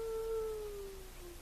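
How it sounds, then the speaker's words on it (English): A single drawn-out, moaning howl, faint and distant, holding a steady tone and slowly sliding downward before fading. "Like a moaning howl."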